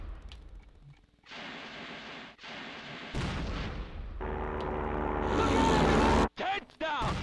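Bursts of gunfire and heavy booms during an aircraft attack in The Great Escape on PlayStation 2 come in long dense rattling stretches that build in intensity, with voices shouting over the din.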